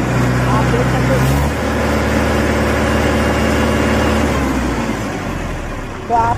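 A 2023 Mahindra 47 HP tractor engine runs steadily in a loud, continuous drone with a low throb, close by, with little change over several seconds.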